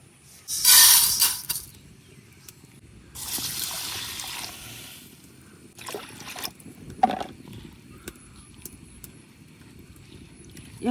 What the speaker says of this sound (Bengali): এখন ডালগুলারে আমি খুব ভালো করে একদম কসলায় কসলায় ধুয়ে নিলাম।